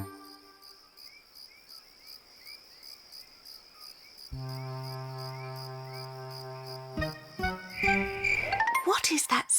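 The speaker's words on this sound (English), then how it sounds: "It's only the crickets," whispered Miffy. "They always chirp at night." Crickets chirping at night in an animated children's show, rhythmic pulsing chirps repeating steadily over soft background music that grows fuller and louder toward the end.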